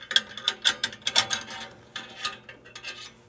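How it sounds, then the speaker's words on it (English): A wrench ratchets while undoing the bolt on a furnace flame sensor, a close series of quick metallic clicks in short uneven bursts. "So take it out, you undo the bolt,"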